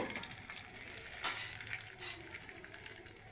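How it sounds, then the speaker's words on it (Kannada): Mustard seeds and cumin sizzle and crackle in hot oil while tempering for a thin rasam-style broth. A steady frying hiss runs throughout, with one sharper pop partway through. No one speaks. "ಇವಾಗೊಂದು ಒಗ್ಗರಣೆ ಹಾಕೊಂಬಿಡೋಣ"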